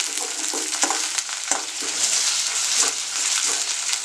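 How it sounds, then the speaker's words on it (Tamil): Small prawns and curry leaves sauté in a pan with a constant crackling sizzle, regular scraping strokes from stirring breaking through it and no voices. "இதையும் போட்டு நல்லா வதக்கலாம்"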